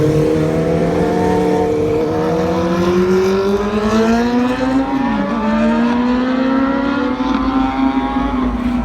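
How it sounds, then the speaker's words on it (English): Engines drone and rev nearby as vehicles pass, pitch sliding up and down over a steady loud roar of road noise. "I've really grown to hate how loud traffic is."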